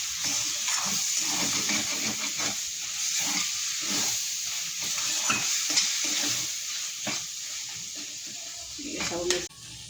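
Potatoes frying in a pan with besan paste of mustard, garlic and cumin, a steady close sizzle with stirring scrapes throughout and a louder clatter near the end.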